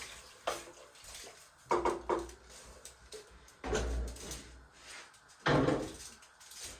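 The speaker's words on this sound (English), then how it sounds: "So add in some water until everything is well covered." Water splashes and gurgles into a cooking pot of beef stew in several uneven pours, with short pauses between the bursts, close by.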